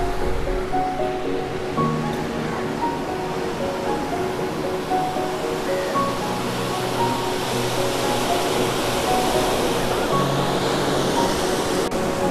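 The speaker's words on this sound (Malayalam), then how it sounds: "കോവളം ബീച്ചിൽ തിരയൊക്കെ അത്യാവശ്യം ഇപ്പോൾ കൂടുതലാണ് നല്ല തിരയാണ്" Steady ocean surf washing onto Kovalam Beach, Kerala, a continuous broadband roar with gentle swells, moderately loud and close, with no voices.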